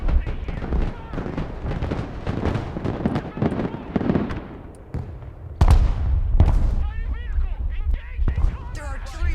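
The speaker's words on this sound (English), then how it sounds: "Their artillery fires volley after volley without repositioning." Artillery volleys booming in the war video game Broken Arrow, a dense run of heavy blasts and cracks firing in quick succession, with a loud impact partway through and a voice talking over the barrage.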